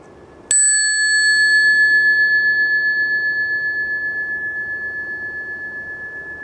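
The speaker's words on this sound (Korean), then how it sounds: "지금 종소리가 땡 하고 났지?" A single bright bell strike rings out clearly and then sustains a long, slowly fading metallic tone in a quiet room.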